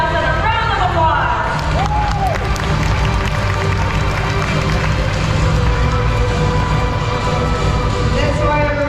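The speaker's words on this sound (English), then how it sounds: "Let's give Nelson a round of applause." Crowd applause and cheering at a bird of prey show at Bird Paradise, Singapore, a steady dense wash of clapping from a large outdoor audience, with an amplified presenter's voice carrying over it.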